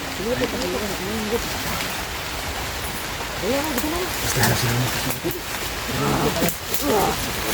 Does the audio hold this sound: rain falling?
yes